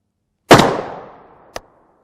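A single loud 7.62x39 rifle shot strikes an alumina and PE multicurve armor plate, a sharp close crack with a long decaying tail, followed by a brief smaller knock about a second later.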